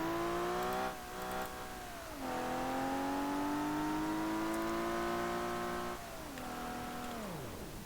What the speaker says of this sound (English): let's see if it can survive the crash hard barrels